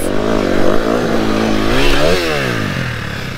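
An enduro motorcycle engine revs hard on the throttle, loud and close, with a buzzing, rising and falling whine and a sharp pitch swing partway through.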